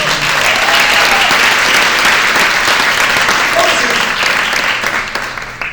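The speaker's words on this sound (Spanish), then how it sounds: "Dale un aplauso bien fuerte." Loud, sustained applause from a church congregation fills the space for several seconds, dense and even before tapering slightly at the end, with faint voices mixed in.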